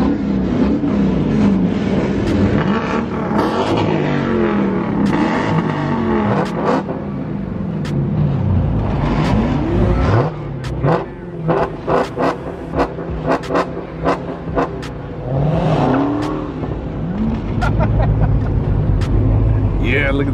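Dodge Hellcat widebody muscle car at a street cruise, its engine rumbling and revving loudly for the whole stretch with deep rising and falling pitch sweeps, mixed with passing traffic and people talking nearby.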